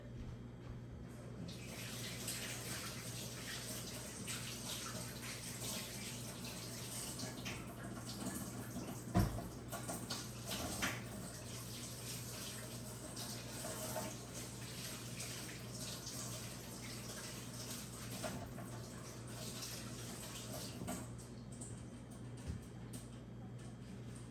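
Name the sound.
washing hands under a running tap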